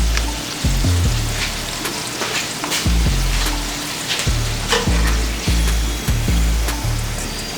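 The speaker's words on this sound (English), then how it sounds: "You may need to fry each side for about 2 minutes." Cheese empanadas fry in hot oil in a pan with a steady, close sizzle and crackle, punctuated by repeated low thumps and clinks of the pan or utensil, with no talking.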